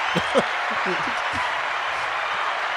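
Audience applause on a Family Reelz show rises as a steady wash of clapping, with a voice speaking briefly over the opening moments.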